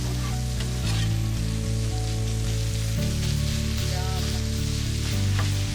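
Vegetables fry with garlic in a pan, giving a loud, steady, close sizzle and crackle throughout with a low background hum.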